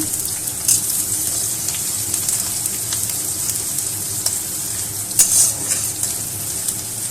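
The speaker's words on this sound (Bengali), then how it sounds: "পেঁয়াজ দেখো লাল লাল করে ভাজা হয়ে গেছে।" Chopped onions sizzle in oil in a pan, a steady bright frying hiss that runs throughout with a couple of louder spits and occasional stirring, close up with no talking.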